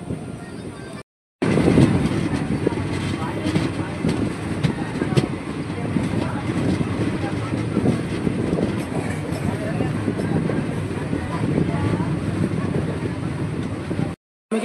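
Interior rumble of the 13146 Jangipur Road–Kolkata Express picking up speed between Azimganj and Katwa, a loud continuous roar with rattling wheels after a brief cutout near the start, with voices mixed in.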